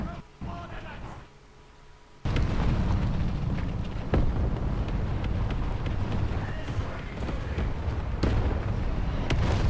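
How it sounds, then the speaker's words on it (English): Artillery shells landing in War Thunder Mobile during a KV-2 tank match. After a quieter start, a heavy rumbling barrage of explosions sets in and holds loud and dense, with occasional sharper impacts. "Let's put some artillery shells."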